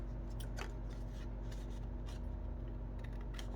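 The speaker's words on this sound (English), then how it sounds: "I'm just going to trim this off over here" Scissors snip and rustle through paper, trimming the edge of a handmade teabag booklet, a few quiet close cuts with soft paper handling and no talking.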